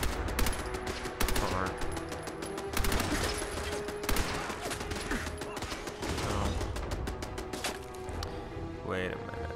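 Rapid bursts of automatic and single gunfire from the video game Fallout 4, dense and loud throughout with layered shots and clattering mechanisms, a voice talking faintly beneath the shooting.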